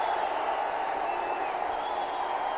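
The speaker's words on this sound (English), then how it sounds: "The crowd is also applauding it." Cricket crowd at a Test match in Mohali, India versus Pakistan, applauding a boundary drive: a steady, distant wash of clapping and murmuring throughout, with no talk.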